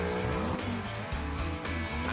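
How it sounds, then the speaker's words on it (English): Maserati GranCabrio with a Ferrari engine drives past close and loud, its engine note rising and falling through gear changes with a brief squeal of tyres. "The glamorous Maserati Grand Cabrio. This Italian beauty is powered by a Ferrari engine."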